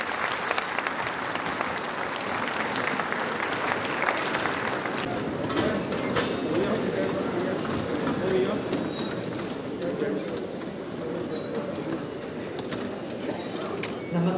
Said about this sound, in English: Please have a huge round of applause for respected Nirmala Sitharaman ma'am.